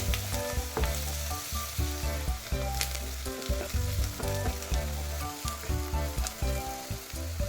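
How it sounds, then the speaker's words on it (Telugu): Masala with chili frying in hot oil, a loud continuous sizzle broken by rhythmic stirring scrapes and knocks of a spoon in the pan. The sounds come close up and with no voices. "ఇలా బాగా ఫ్రై అవుతున్నప్పుడు కొద్దిగా మిర్చి వేసుకుందాం"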